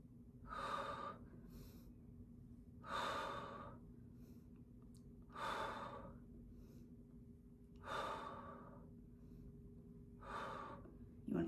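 Heavy, rhythmic breaths during a strength training exercise, five loud inhale-exhale cycles spaced about every two and a half seconds, close to the mic over a faint steady hum.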